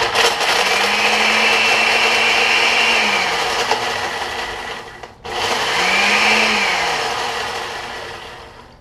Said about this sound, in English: I just have a blender. So I am chopping them up little by little